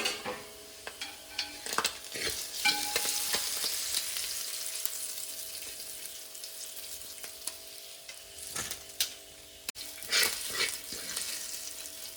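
Anchovies frying in hot oil, giving a steady, dense sizzle with scattered crackles and occasional clinks of a utensil stirring the pan, close and continuous with no talking.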